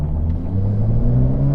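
Inside the cabin of a 2024 Porsche 911 Carrera 4S (992) on the move, a steady low engine and road rumble holds at a moderate level, calm and continuous with a slight rise in pitch.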